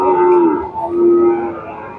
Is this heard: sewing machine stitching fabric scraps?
no